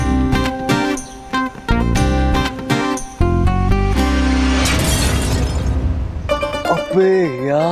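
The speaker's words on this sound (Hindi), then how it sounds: "मास्टर साहब का शीशा फिर से तोड़ दिया।" Glass smashes and scatters in a long crashing burst amid loud dramatic music hits, followed by a rising sweeping tone.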